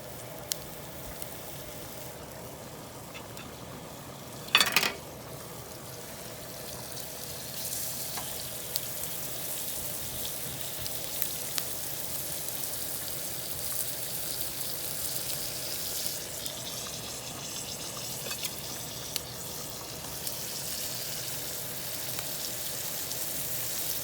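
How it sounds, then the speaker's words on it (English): Dredged veal pieces frying in olive oil for saltimbocca, a long even sizzle at low level with scattered small pops and a single sharp clatter early on. "give it a good dredging right into the olive oil to cook"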